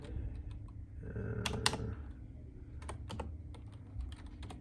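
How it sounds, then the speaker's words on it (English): Keys tapped on a computer keyboard while a password is entered, quiet close clicks in small irregular clusters over a low background hum. "So keyed in the password."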